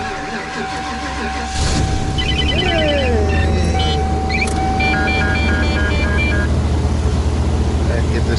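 A campervan engine turns over and catches in freezing cold weather, a steady idle rumble building after a brief start, with interior beeps and clicks and people talking over it.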